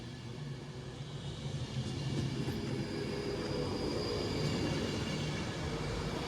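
Class 390 electric train running through Wilmslow station, a steady broad rumble and rush of wheels on rail with faint squeal, sustained and fairly close throughout.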